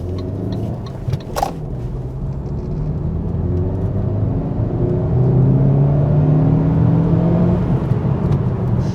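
A Saab 2-litre car with a light-pressure turbo driving along, with a steady engine hum and rising whir as it gathers speed, and a brief click near the start.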